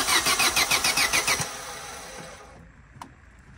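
An engine sprayed with Start Pilote starting fluid cranks in a rapid, even rhythm of about ten loud pulses, briefly catches, then falls quiet, leaving a faint hum and a small click near the end.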